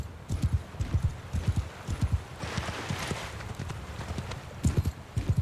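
Horses gallop across a Bannerlord battlefield, with a steady run of close, loud clip-clop hoofbeats in uneven bursts and a brief whinny heard over the clatter.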